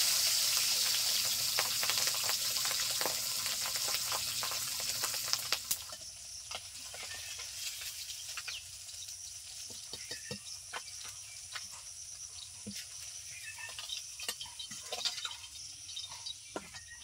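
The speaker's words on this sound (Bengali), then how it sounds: "সবগুলো মাছ ভাজা হয়ে গেছে, এই কয়টা রয়েছে, তো চলো ভেজে নেওয়া যাক।" Fish frying in hot oil in a pan gives a dense, steady sizzle that is loud for the first few seconds and then settles softer, with scattered crackles and spitting pops throughout and no voices.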